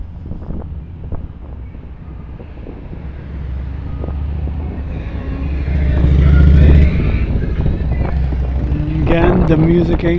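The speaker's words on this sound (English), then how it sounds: "it's people passing by with their loud cars. Oh, in this case, a motorcycle." A motorcycle passes along a town street during the West Reading Ice 'n Spice Festival. Its engine noise swells to a loud peak midway and then eases off, over steady wind and outdoor street ambience.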